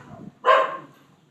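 A dog in a travelling van setting in Granada gives one sharp, close bark after a moment of faint low murmuring, then the sound trails off quickly.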